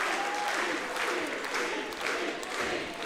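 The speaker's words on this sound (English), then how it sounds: "The crowd are chanting for it." Wrestling arena crowd roaring and clapping steadily throughout, a dense wash of applause and voices with no distinct chant rhythm standing out.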